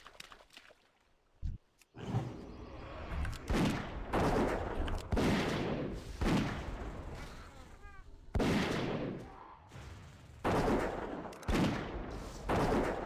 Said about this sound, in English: The gun sound used to annoy me.